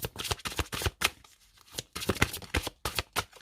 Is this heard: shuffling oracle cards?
yes